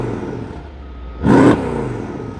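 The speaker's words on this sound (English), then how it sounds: "I'm not sure what he has done to the exhaust, and it could just be cut off, but listen to this." A wrecked Mercedes E63 AMG at a salvage auction runs with its exhaust apparently cut off, idling with a rough rumble before a short, loud blip of revs bursts out and settles back to idle.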